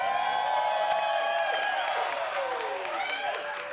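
A live studio audience at a movie trivia Schmoedown competition event cheers and applauds continuously, a dense steady roar with whoops rising over the clapping.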